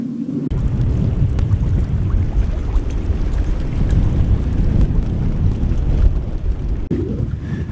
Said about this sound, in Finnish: Melko kiva tuuli täällä Maarianhaminassa.